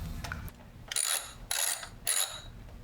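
A ratcheting driver works screws into a license plate holder, three separate bursts of quick clicking with short pauses between them, close and fairly quiet, with no talk.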